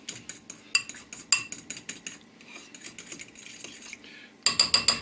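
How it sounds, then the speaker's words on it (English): Four egg yolks being beaten gently in a bowl for a Boston cream pie filling, a utensil clinking quickly and rhythmically against the bowl, close and fairly loud, with a brief pause before faster strokes resume. "We're going to start by beating 4 egg yolks gently in a bowl"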